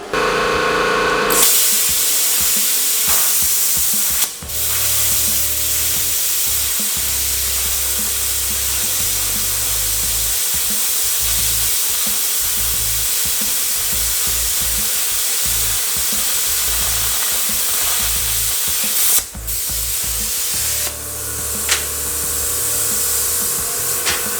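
A Silatu STC550P plasma cutter slices through quarter-inch metal with a continuous loud hissing roar and brief breaks when the arc starts and stops.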